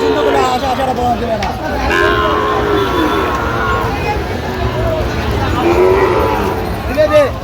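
Sahiwal cattle moo repeatedly at a livestock market in Comilla, the calls near and loud over constant crowd chatter and nearby speech.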